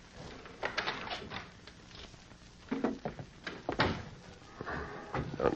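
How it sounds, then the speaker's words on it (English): An unlocked door at the end of a hallway creaks and clunks open as a radio drama sound effect, a short run of knocks and rattles with a few louder thuds near the end. "he found an unlocked door at the end of the hallway"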